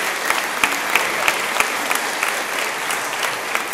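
A festival audience applauds the pianist at a closing concert-evening event in Krynica, steady close clapping from many hands with a few sharper claps poking out regularly, no speech over it.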